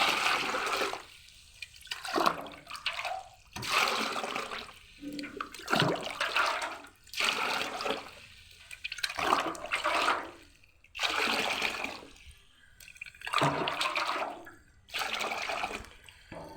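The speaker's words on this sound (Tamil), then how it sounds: "தண்ணி வந்து இதில் 4 ஊற்றுவோம்." Water is poured from close by into a soaked neem cake (veppam punnakku) mixture for organic plant feeding, in several splashing bursts separated by short pauses.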